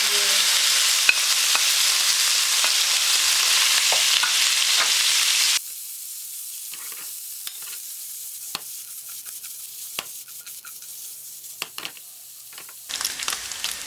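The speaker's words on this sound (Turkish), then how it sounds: "Şimdi etimizi biraz suyunu çektikten sonra birazcık kavurdum." Cubed meat sizzles loudly in a pan with a spoonful of fat, a dense hiss that suddenly drops to a quieter crackle with scattered pops and occasional stirring.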